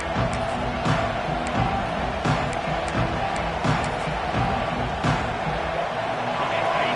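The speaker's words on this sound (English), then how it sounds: "Listen to the crowd energy here in the early going. This is a tough environment for visitors." Stadium crowd in the NCAA 26 college football video game: a dense, steady roar of thousands of fans with periodic thumping beats and swelling cheers, constant throughout.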